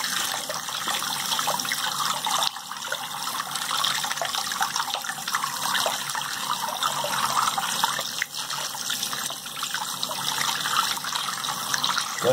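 Continuous trickling and gurgling of water running down an unclogged shower drain, steady and close with no talk over it.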